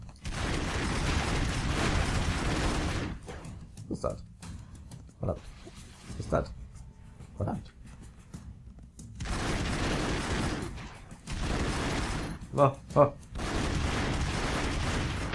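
Bursts of heavy gunfire and explosions from the video game Broforce come in long loud volleys, separated by quieter gaps with a few sharp single bangs.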